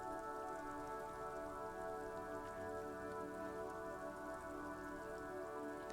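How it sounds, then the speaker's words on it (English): Steady rain falls over houses in the video game Disco Elysium, a continuous soft patter with droplet detail, faint and unbroken with no talk. "A silvery curtain of rain over the houses."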